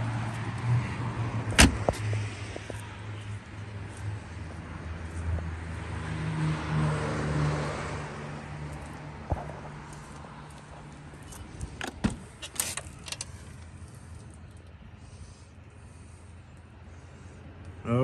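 A 1991 Chevrolet Corvette's power window motor whirs for a few seconds amid car interior noise, followed by sharp clicks and a rattle like keys or a door.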